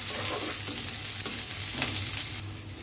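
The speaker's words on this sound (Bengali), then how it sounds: "পেঁয়াজ আর মরিচটা একটু হালকা করে ভেজে নেব প্রথমে" Onion and chili lightly frying in a pan give a steady, even sizzle with soft stirring scrapes, close and continuous, with no voices.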